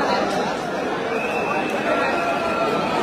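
Dense crowd of devotees at Ayodhya Ram Mandir, a steady wash of many overlapping voices and chatter close around, continuous and loud for the whole span with no single sound standing out.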